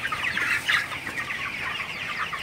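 A flock of broiler chickens clucks continuously as they are chased up to feed, a dense, busy chorus of overlapping calls with no talking.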